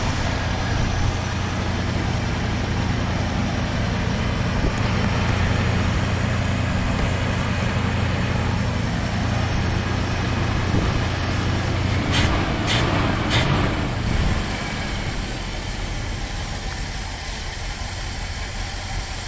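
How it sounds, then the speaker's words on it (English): A 1975 Dodge Dart Sport, restarted after sitting for 14 years, idles steadily and fairly loudly for the whole stretch, a low continuous rumble with a brief rattle or revving flutter near the middle and no talking. "The idle's great. Listen to that."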